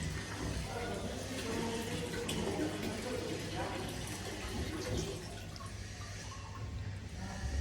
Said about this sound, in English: You can see the water go through the pipe.